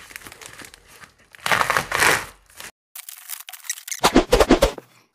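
Packaging of an 8BitDo keyboard in Nintendo-style retro design is opened up close. Loud crinkling and crushing bursts of cardboard and plastic are broken by short pauses, and a quick rapid series of rustles comes near the end.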